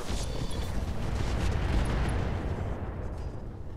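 Heavy weapons fire from battling mechs in the game Roguetech, a sustained rumbling barrage of booms and bursts with faint sharp pops above, loud and continuous.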